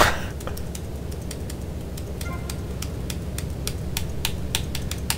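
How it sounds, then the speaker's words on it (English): Computer keyboard keys being smacked during a GTA Vice City play session, giving sharp irregular clicks over a steady low hum of game sound. "I don't know if you can hear me smacking my keyboard."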